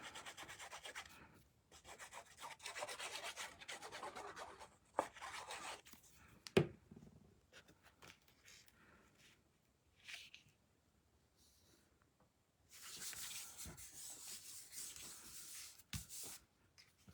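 Paper being rubbed down by hand to stick it onto a handmade card, dry brushing strokes in several bursts separated by quiet pauses, close and soft.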